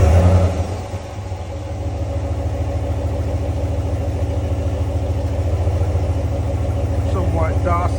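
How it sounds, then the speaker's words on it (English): Stock-exhaust Ram 1500 with a 5.7 Hemi V8 after a semi-cold start, settling into a steady low rumbling idle after a brief louder start burst, with a voice talking briefly near the end. "I'm going to do a semi-cold start so you can hear the before and after."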